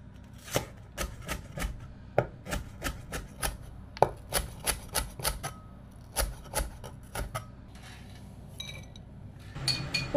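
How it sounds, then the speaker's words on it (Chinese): A kitchen knife chops scallions on a cutting board in a home kitchen, a close run of quick, sharp, irregular knocks that pauses briefly toward the end, with no talking. "最后再切点葱花。"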